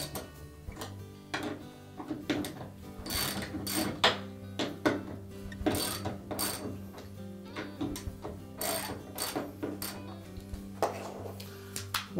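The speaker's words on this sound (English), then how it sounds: "So use a 3/8 socket to loosen those bolts." A 3/8 socket ratchet loosens the stator bolts on the bottom of a Whirlpool washer, giving close, quiet, rapid clicking and rasping strokes in irregular bursts.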